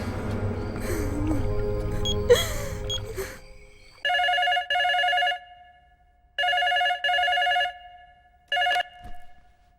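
A voice speaks briefly, then a bell telephone rings in repeated double bursts, three rings in all, clear and close.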